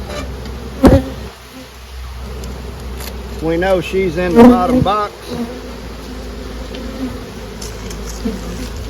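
Honey bees buzz around a hive box packed with bees while frames of comb are added, a steady close hum under a voice talking.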